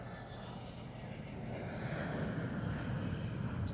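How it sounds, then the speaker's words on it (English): Embraer Legacy 500 business jet performing a flight display at the 2018 Farnborough Airshow, a steady broadband engine roar that swells slightly louder as it passes, heard alone without talk. "Elegant looking private jet."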